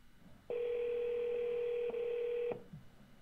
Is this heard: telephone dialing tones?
yes